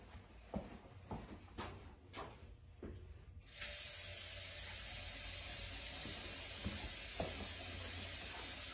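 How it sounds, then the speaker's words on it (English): Water is poured into a preheated hot stone heater. A few light clinks and taps come first, then a steady, close hissing pour runs unbroken to the end. "When adding water to your stone heater, you want to try and find an area that won't hit the stones directly, where it can fill in slowly"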